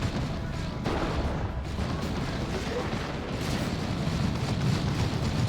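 Vindicator tank shots in Dawn of War 2 within a battle, a dense rumble of artillery thuds and booms layered over continuous combat noise, with talk partly blended in.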